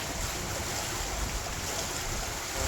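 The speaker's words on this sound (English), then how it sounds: "the wind is pretty strong" Strong wind roaring across open bay water near a boat, a steady dense rush of gusts and wave wash buffeting the microphone without letting up.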